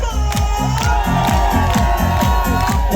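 Festival crowd at an outdoor town celebration concert cheering and shouting over rhythmic music with a pulsing beat, loud and continuous, with voices whooping throughout.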